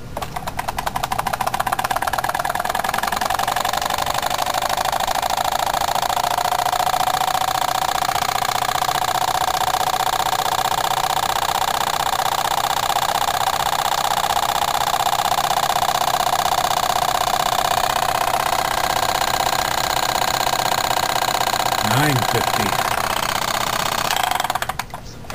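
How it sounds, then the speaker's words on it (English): Jensen 25 toy steam engine running steadily throughout, a continuous loud mechanical whir with a dense rhythmic chuff, shifting slightly near the end as it is reversed. "Problem when you're reversing the engine all the time, it's building up more pressure in the boiler."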